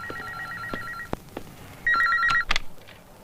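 A telephone rings at a police station: two bursts of a warbling electronic ring separated by a short pause, with a few knocks and clicks between them, close and moderately loud with no talking.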